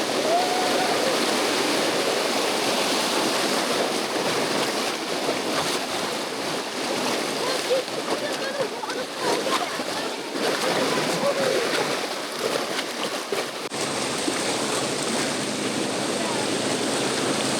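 A raft plows sideways through whitewater rapids on the Nantahala River, a steady loud rush of churning, splashing water filling the whole stretch with no break.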